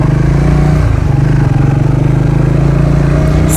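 A motorcycle is ridden along a road through the Sahyadri hills near Ambey Valley, its engine droning loudly and steadily close by with constant road and wind rumble, and no voices.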